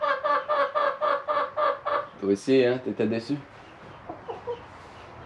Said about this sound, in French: Cette poule!